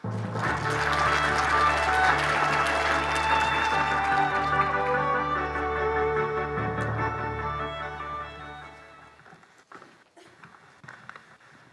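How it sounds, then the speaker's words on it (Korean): An audience at an opening ceremony for a Korean development-cooperation startup forum applauds in a full, sustained burst for about eight seconds before it thins and dies away into scattered sounds. "큰 박수로 맞이해 주시기 바랍니다."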